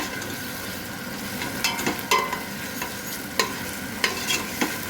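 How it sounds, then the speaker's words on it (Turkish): Tomato paste and onions fry in a pot while a spoon stirs them, giving a constant soft sizzle broken by occasional scraping knocks of the utensil; no one speaks. "salçanın biraz soğanla homojen kıvama gelmesi için kavuruyorum"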